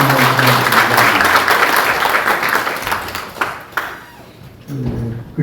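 Audience applause for two vice governors at a Korean assembly's opening session, loud dense clapping that fades toward the end before a brief voice returns.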